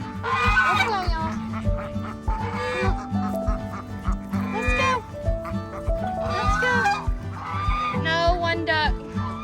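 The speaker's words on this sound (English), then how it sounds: "Let's go, ducks." Ducks being herded into their pen at a garden smallholding quack and honk in loud, close bursts throughout, mixed with other farm animal calls and a steady low hum.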